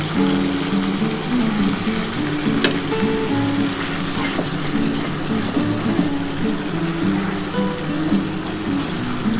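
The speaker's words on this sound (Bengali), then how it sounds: "এই দইটা দিয়ে এবার ভালো করে কষিয়ে নিয়ে টাকা দিয়ে দেবো" Chicken frying with sour yogurt in a pan gives a continuous loud sizzle and bubbling, with scattered clinks of stirring over it. No voices are heard.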